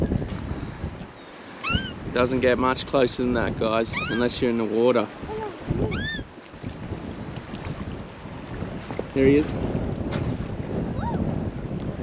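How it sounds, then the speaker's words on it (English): Strong gale-force wind buffets a small boat off Mandurah in stormy weather, a constant rushing roar over the microphone with splashing water beneath, while people talk and call out over it. "It is absolutely blowing a gale"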